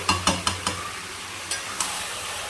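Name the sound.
black meat being sautéed and stirred in a pan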